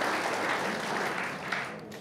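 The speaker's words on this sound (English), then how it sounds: "let's applaud for them" An audience applauds representatives standing up at the 2020 Kern COG awards ceremony. The clapping is sustained and even for about two seconds, then thins slightly toward the end, with no speech over it.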